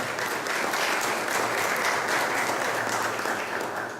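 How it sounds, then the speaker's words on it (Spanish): Audience giving a strong round of applause for historian Jaime Galarza Zavala at a welcome event, a dense, steady wash of many hands clapping, loud and continuous with no talk. "Un fuerte aplauso, por favor, para el historiador Jaime Galarza Zavala."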